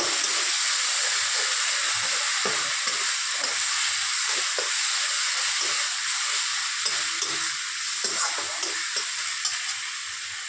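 A masala of turmeric, salt, chili powder and cumin powder stir-fries in a pan with a steady hissing sizzle and soft, repeated scraping stirs, fading slightly at the end.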